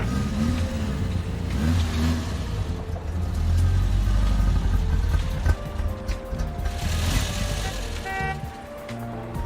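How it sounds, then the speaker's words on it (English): An old car with no power steering, about twice as old as its young driver, is driven into a home driveway, its mid-pitched engine revving and rumbling loudly throughout at close range. "This leaves our intern Lindsay the dicey job of putting Rob's prize car back in the driveway"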